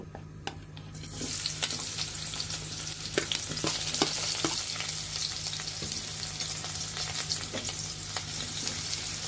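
Spice paste sizzling in hot oil with cumin seeds for an eggplant chop, a steady close frying hiss broken by sharp spatters and crackles, with no voices.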